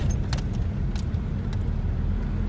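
Volkswagen Bora on a road test after a gearbox repair, with a steady low engine and road rumble from inside the car and a few light rattles and clicks; no one speaks.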